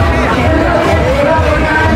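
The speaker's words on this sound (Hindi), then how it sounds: "देखिए भीड़ एकदम खचाखच, आदमी एकदम भरे हुए हैं।" Dense crowd packed into the grounds of the Sonpur fair on its final day, a loud continuous babble of many voices close around, steady throughout.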